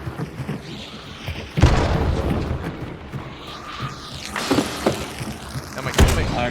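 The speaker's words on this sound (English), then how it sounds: "They really want to kill me with a grenade." Grenade blasts in a first-person shooter video game, a few heavy booming thuds spread across the clip amid game noise, with a voice talking at times.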